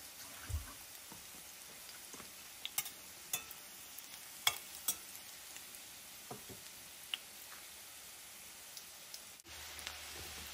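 Malunggay, carrot and shrimp okoy fritters fry in hot oil with a steady faint sizzle, broken by scattered sharp pops and crackles and one louder clunk near the end.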